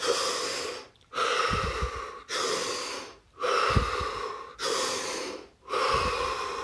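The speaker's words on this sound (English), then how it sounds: "Take 3 deep breaths this time." Three slow, deep breaths taken during a guided meditation session, each a long airy inhale and exhale close to the mic, separated by brief pauses, with no talking over them.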